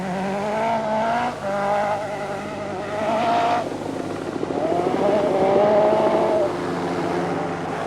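A Lancia rally car on icy roads at the 1984 New Zealand World Rally Championship, its engine revving hard and rising in pitch as the tyres struggle for traction, loud and close.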